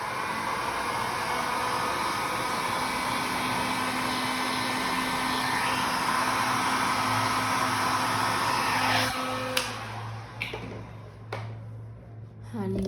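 A hair dryer or heat gun blows a steady, loud whooshing roar over a piece being heated, running continuously for about nine seconds before cutting off, followed by a few handling clicks and taps.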